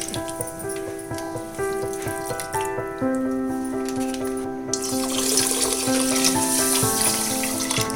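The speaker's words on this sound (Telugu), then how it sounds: "వీటిలో పాలు పోతాం. కిలో చక్కెరకు 1 లీటర్ పాలు." Milk is poured over sugar in a vessel for double ka meetha. The steady liquid stream rings with a tone that climbs as the container fills, loud and close, with no talk.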